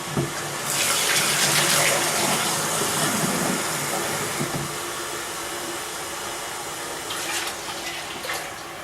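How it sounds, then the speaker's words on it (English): Water poured from a cup into a cooking pot of Peruvian arroz con pollo and brown rice, a steady splashing pour over continuing sizzle that eases off toward the end. "And 1 cup of water."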